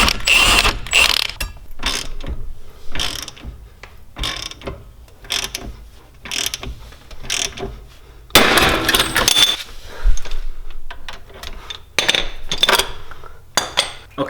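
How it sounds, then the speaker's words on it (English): A ratchet with a 24mm socket clicks in quick repeated bursts while loosening a tie rod nut on a BMW E9x xDrive front suspension, with metallic clinks and tool handling in between, close up. "we can use a 24mm socket to take off the tie rod"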